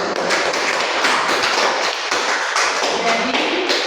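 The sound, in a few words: classroom applause for a presenting group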